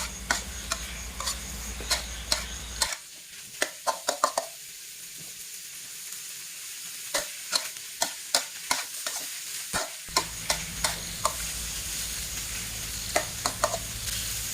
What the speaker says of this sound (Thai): ผัดหน่อไม้ให้สุกนะคะ